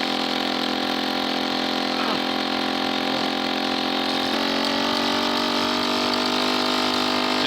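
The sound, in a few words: moped engine running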